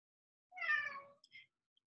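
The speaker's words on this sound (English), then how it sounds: "there's my cat Watson." A pet cat sitting indoors near a window gives one clear, fairly close meow, then a shorter faint chirp-like follow-up, with quiet all around.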